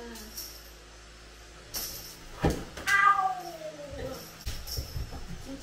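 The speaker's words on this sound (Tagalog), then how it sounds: "Pati ikaw, Chichi, hindi pusa ka na." A house cat meows a few times at a moderate distance against a quiet indoor background, with faint thumps and rustling nearby.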